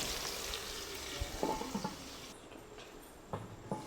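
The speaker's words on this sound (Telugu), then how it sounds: "దీన్ని మంచిగా గోల్డ్ కలర్ వచ్చే వరకు మనం 1 నిమిషం పాటు వేగనిద్దాం" Pieces of country chicken fry in hot oil until golden, giving a steady, close, broadband sizzle that softens partway through, with a few light scraping stir clatters.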